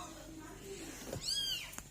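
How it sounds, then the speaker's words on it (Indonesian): A mother cat that has just given birth lets out a faint, drawn-out meow, with a few rising and falling calls over quiet indoor background noise. "ini kucing saya melahirkan guys"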